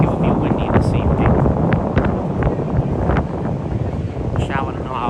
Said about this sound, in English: The wind is like drifting my phone away.